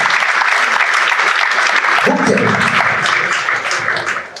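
An audience at a designer fashion show applauds steadily, dense clapping filling the space while a voice speaks briefly over it, fading toward the end.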